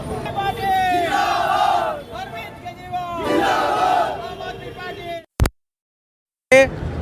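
A street protest march in Murshidabad against the arrest of Arvind Kejriwal, with a crowd loudly chanting slogans in two surging call-and-response waves, followed by a brief cut to silence and a short burst of chanting again.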